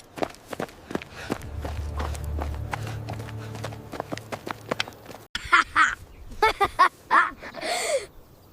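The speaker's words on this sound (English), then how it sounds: "The villagers ran quickly to help him." Cartoon villagers running quickly: a rapid series of sharp footstep taps over a low hum, giving way to quacking, animated squawk-like sounds near the end.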